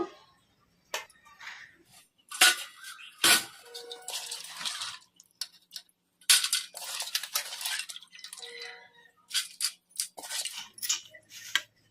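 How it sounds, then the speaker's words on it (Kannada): Cowpea lentils are tipped into a perforated colander pot for village-style masala vada, with bursts of rattling, clattering grains and metal pot knocks coming in irregular clusters separated by short pauses. "ಈಗ ಇದನ್ನ ಈ ಥರ ಒಂದು ಹೋಲ್ಸಿರೋ ಪಾತ್ರೆಯಲ್ಲಿ ಬೇಳೆಯನ್ನು ಹಾಕ್ಕೊಂಬಿಡೋಣ ನೀರೆಲ್ಲ ಕೆಳಗೆ ಇಳಿದು ಹೋಗ್ತವು"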